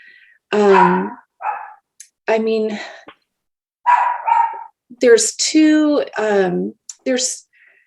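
A pet dog barks loudly and close indoors in a home, in several bursts of sharp, tonal barks and yips separated by brief pauses.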